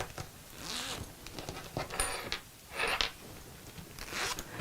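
A zip on a hidden back pocket of a homemade fabric gardening apron is pulled open and shut in several short rasping strokes, close and alone.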